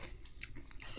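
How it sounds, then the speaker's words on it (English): A crunchy bite and chew sounds close up, several quick crisp cracks in an uneven rhythm, quiet overall with no talk. "So, you wanna hear a crunch?"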